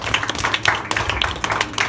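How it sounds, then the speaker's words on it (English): A small group applauds a freshly made candy cane at a candy shop, with loud, close, fairly dense clapping and scattered sharp hand claps over a busy room. "Let's all give a big round of applause for candy cane number 3."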